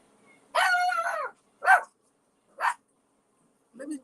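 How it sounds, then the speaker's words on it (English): A puppy on Molokai, Hawaii, barks several times: one long, drawn-out bark followed by three short, spaced yaps, fairly close and clear, with no talk over them. "she just started barking"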